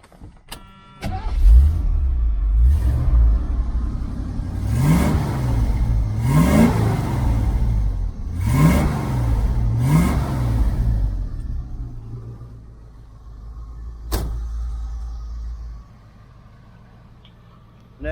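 A 1978 Chevrolet El Camino SS with a new X-pipe dual exhaust starts up and revs several times, loud rising and falling bursts over a rumbling idle before settling back down.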